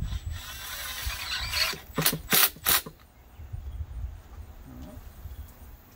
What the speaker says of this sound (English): Tighten up this hose clamp.